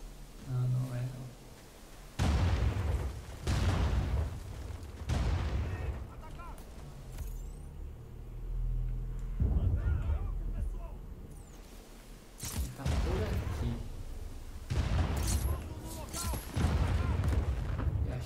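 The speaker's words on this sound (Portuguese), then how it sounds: "Esse foi o último canhão." Heavy booming cannon blasts and explosions in the video game Just Cause roll out at intervals, loud and close, with people talking in Portuguese in between and over the rumble.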